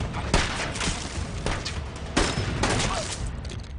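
Gunfire from a World War II battle scene in the film Hacksaw Ridge, with several sharp shots cracking out at irregular intervals over dense, rumbling combat noise, loud and close.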